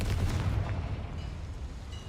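A Confringo spell explodes in Hogwarts Legacy, a single low booming blast that rumbles and fades over about two seconds, heard alone.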